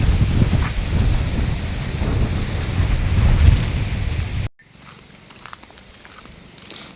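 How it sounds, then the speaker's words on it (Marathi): Strong wind gusts over open rice fields, a loud, rough roar buffeting close for several seconds before cutting off abruptly to a quiet, faint rustle. "मस्त वारा सुटला आहे, मस्त एकदम."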